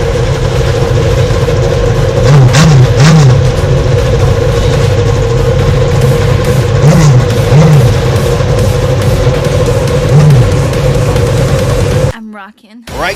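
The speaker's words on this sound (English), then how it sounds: "Drivers, start your engine!" Loud droning race car engines starting, with rising and falling revs, a low rumble throughout that cuts out abruptly near the end.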